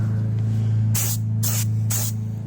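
Three short bursts of aerosol spray hiss, evenly spaced, laying a tack coat of paint on a Honda CB400 motorcycle part, over a steady low electrical hum.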